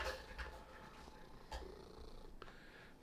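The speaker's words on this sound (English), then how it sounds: "He's always purring so loud, Fozzie." A male cat purrs loudly and steadily right up close, a continuous rumbling drone with a few soft breathy accents.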